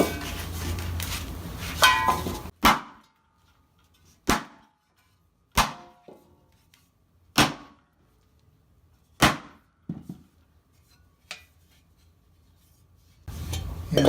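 Hammering a metal armor helmet, a series of sharp, ringing single strikes spaced a second or two apart in a quiet workshop, with faint shuffling between blows and louder work noise at the start and end.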